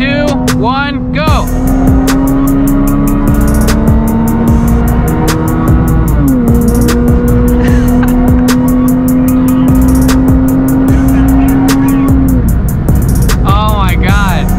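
Nissan 350Z with about 300 wheel horsepower racing a 2JZ-swapped Lexus IS300, loud engines held at steady high revs through long pulls with a gear change midway, brief tire squeal, and people talking over the roar inside the car.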